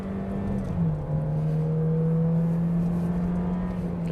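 A Toyota Innova seven-seater MPV drives on the Genting road, heard from inside as a steady engine drone with a slight dip in pitch early on before it holds level. No one is speaking.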